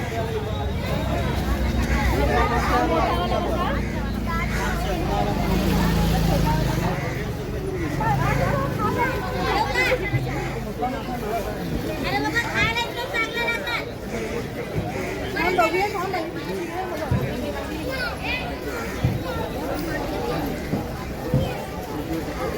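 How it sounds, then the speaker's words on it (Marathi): Busy Sunday fish market in Bhandup, Mumbai, with a dense crowd of shoppers: continuous loud chatter and overlapping voices, occasional clatter and traffic noise blending into a steady hubbub throughout. "मासे घेण्यासाठी ही लोकांची गर्दी झालेली आहे"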